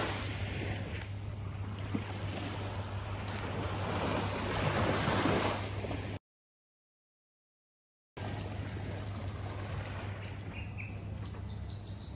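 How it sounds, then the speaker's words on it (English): Waves wash steadily onto Seven Mile Beach in Negril, Jamaica, as a constant broad roar of surf and wind, cut by a brief silent gap. "I'll show you guys the beach."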